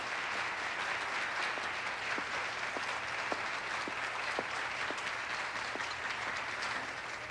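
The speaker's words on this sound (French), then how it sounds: "Allez, on applaudit Hélène." An audience claps for a young woman contestant on a French stage competition. The applause is faint and distant, a soft continuous patter with a few sharper claps standing out, lasting several seconds without speech.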